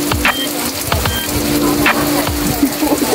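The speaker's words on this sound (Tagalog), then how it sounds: "Nagpapahinga, nagpapatira ng ulan, guys, kasi malakas ang ulan." Heavy rain falls at an outdoor work site, a steady dense hiss with scattered drips and patters close by, heard from under a solar module.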